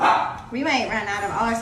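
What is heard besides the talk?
dog barking in the background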